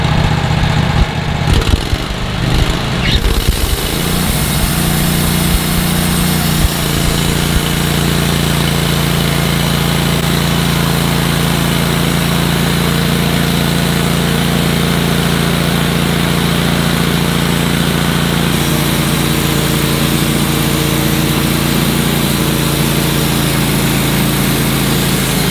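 Sawmill engine running steadily and loudly through the first cut of a rare black walnut log, a sustained drone with a rougher start-up in the opening seconds and no talking.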